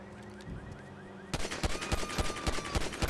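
A modded Miss Fortune gun fires in GTA 5, starting with a quieter electronic whir and soft chirps before a rapid burst of loud, evenly spaced shots rattles on to the end.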